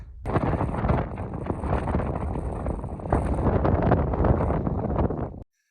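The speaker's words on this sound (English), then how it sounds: "right now we're in a little bit of a wind gust" Strong wind gusts buffet the microphone on the Great Sand Dunes in Colorado, a loud, continuous roaring rush that swells midway and cuts off abruptly.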